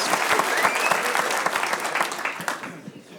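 Studio audience applause on a Lithuanian TV game show, a dense burst of clapping from a crowd that tapers off slightly, with a voice heard over it.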